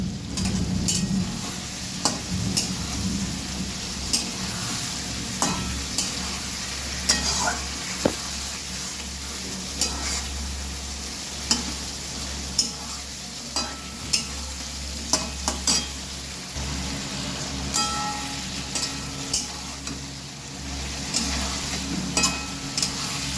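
Chopped tomato fries in a pan of fish curry with potato and pointed gourd, a steady sizzle punctuated by regular sharp spoon scrapes and knocks against the pan as it is stirred, close and moderately loud.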